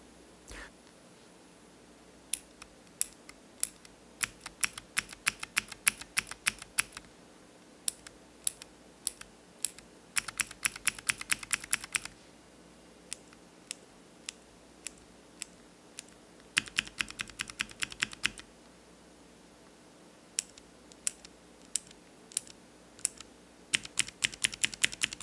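Mechanical keyboard typing on Cherry MX blue, white and green switches: bursts of crisp clicky keystrokes, close and steady, alternating with brief pauses and isolated single clicks, with no talk.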